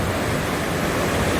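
Waterfall beside the road near Hospital Rock in Sequoia National Park, a steady, loud, broadband rushing roar that stays constant throughout with no talking.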